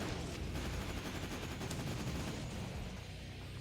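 Sustained gunfire from the action game The Terminator: Dawn of Fate, a steady wash of rapid shooting and blasts at moderate level throughout, with no voices.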